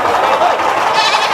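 Goats bleating at a Sunday goat market, a steady, dense mix of animal calls that runs through the whole short moment with busy crowd noise underneath.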